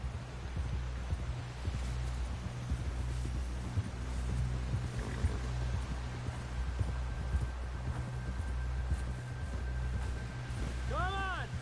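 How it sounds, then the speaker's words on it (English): A horse gallops in a video game, its rhythmic hoofbeats thudding steadily and fairly faintly beneath a constant low rumble, with a brief rising tone near the end. "Someone help John down off this horse"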